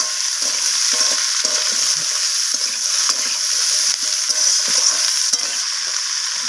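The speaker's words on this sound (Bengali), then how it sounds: "সমস্ত সবজি এইভাবে নাড়াচাড়া করে আমি একবার ভাজা ভাজা করে নিচ্ছি।" Chopped vegetables including kohlrabi, radish, broad beans and potato sizzle loudly in hot oil in a pan, with repeated scraping and clattering stirring strokes breaking the steady hiss throughout.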